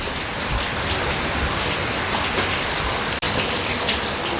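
Steady monsoon rain pours down in a dense, even hiss of drops striking surfaces nearby, with no voices, apart from one brief dropout near the end.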